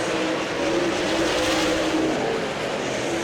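Race cars roaring around a short oval track during the Slocum 50 stock car race, a continuous loud engine drone with rising and falling revs as the pack passes, no voices.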